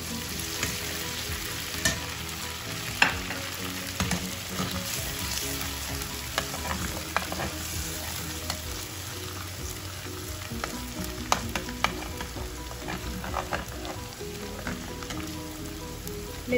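Garlic and ground red chilies frying in oil for bhuni moong dal, a steady close sizzle with scattered clicks and scrapes of stirring throughout, no voices.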